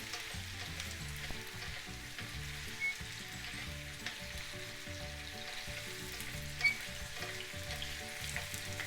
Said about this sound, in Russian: томат я перемешала и обжарила